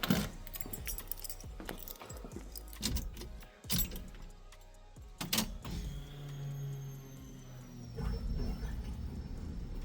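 Car keys jangle and clink in bursts near the 1969 Camaro with its swapped LS3 and six-speed, a few sharp rattles early on, then a low steady hum and faint whine take over.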